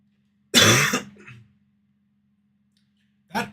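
A single stifled cough or throat clear close to a new microphone, a short muffled burst followed by silence and a second brief, quieter burst at the end.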